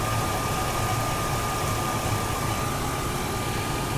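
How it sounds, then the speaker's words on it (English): A car engine idles steadily after a fuel injector rebuild, a smooth even hum with a faint whine, close and constant with no misfires or voices. "It's got a nice smooth run to it. You don't see the engine shaking very much, so it's running smoothly."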